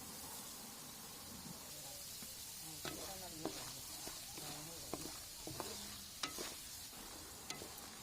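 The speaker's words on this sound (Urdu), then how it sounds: "ابھی مزید ہم اس کو فرائی کریں گے اور اچھا سا کلر آنے تک فرائی کریں گے" Taro (arbi) frying in ghee sizzles with a soft continuous hiss, broken by repeated scraping and clinking of a spoon stirring the pan, with no voices heard.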